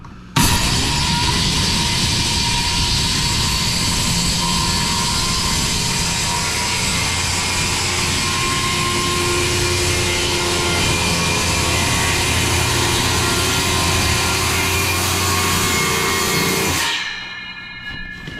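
A power saw cutting old oak hardwood flooring in a 1952 home, a loud continuous whining roar held steady for about sixteen seconds before spinning down and stopping.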